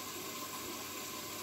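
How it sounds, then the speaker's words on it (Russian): A washing machine fills with water for washing a blanket on a 95° cotton cycle, giving a steady, even hiss and rush of inflowing water, soft and continuous with no voices. "ну посмотрим, сколько еще наберет воды"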